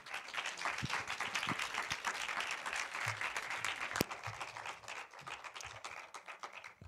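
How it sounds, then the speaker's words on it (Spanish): Steady audience applause at a Cine hablado film talk at Tabacalera, many hands clapping densely and evenly for the full length with a few sharper claps near, no speech over it. "os voy a pedir un fuerte aplauso"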